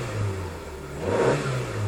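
Ford Focus Estate Zetec engine running with a steady low hum, swelling briefly as the revs rise midway, then settling back, close by and with no talk.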